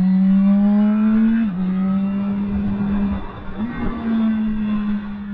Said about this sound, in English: Downshifts out the clutch nicely